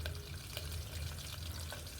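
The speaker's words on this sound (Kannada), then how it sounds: "ನೋಡ್ತಾ ಇರ್ಬೋದು, ಚಟಪಟ ಅಂತ ಸಿಡಿತಾ ಇದೆ." Mustard seeds, garlic and fresh curry leaves crackle and sizzle in hot oil during tempering for lemon pickle, a close, steady frying hiss with scattered small pops and no talking.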